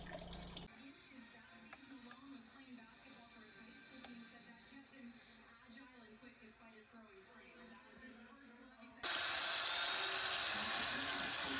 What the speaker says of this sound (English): Time to take the radiator cap off and open the drain cock